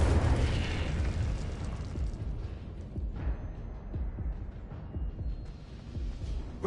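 A fire spell in the video game Hogwarts Legacy erupts in a burst of booming flame, followed by crackling, rumbling impacts that fade and recur, loud and close without voices.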